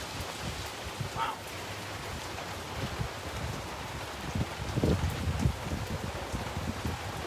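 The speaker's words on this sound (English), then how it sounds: "Listen to the soothing sounds of the rain." Heavy rain pours outdoors at a backpacking campsite, a dense continuous hiss of drops on surfaces with occasional nearby patters and light wind, steady throughout.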